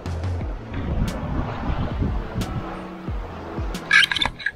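Ocean waves wash around a 36-foot sailboat crossing open sea, with a steady rush of water and wind noise gusting across the microphone and a few brief knocks.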